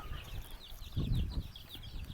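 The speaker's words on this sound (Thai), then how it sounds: "นี่ไก่ไก่น้อยนะคะ" Small chicks and chickens in a rural Thai farm coop beside a cattle pen chirp in quick high peeps over a faint rustling background, with a brief louder shuffle in the middle.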